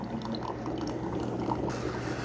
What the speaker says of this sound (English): you can hear the K Mini is starting to brew its coffee